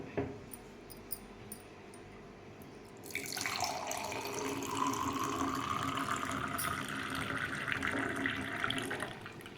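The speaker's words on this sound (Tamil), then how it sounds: "நம்ம இதை எடுத்துட்டு நம்ம இந்த சாறே ஊற்றிக்க வேண்டியதான்" Banana stem juice is poured into a tumbler, a steady splashing pour that starts after a quiet moment and runs continuously, close and fairly soft, with no speech.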